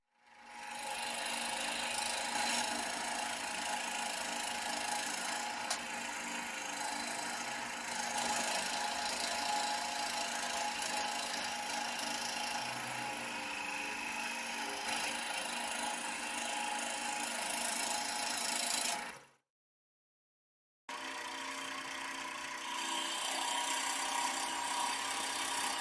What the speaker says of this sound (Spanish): Ahora con la caladora de banco haré los recortes pertinentes